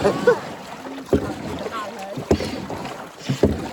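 A small rowing boat moves across water with steady oar strokes, each splash and knock about a second apart over a continuous wash of water and wind. A voice talks now and then between the strokes.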